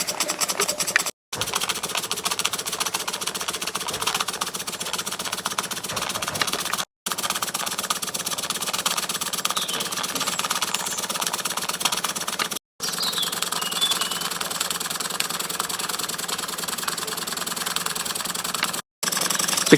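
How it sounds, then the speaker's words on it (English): Cotswold Heritage Cirrus double-acting steam beam engine running on a Stuart 501 boiler, giving a steady, even mechanical chuffing and whirring that goes on without a break, with brief gaps of silence between sections. "get the engine running steadily"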